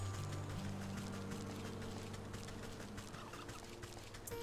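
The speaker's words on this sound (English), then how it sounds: "Turkeys." Turkeys in the video game Wytchwood gobble faintly over a steady ambient game soundscape with low sustained tones, no voices.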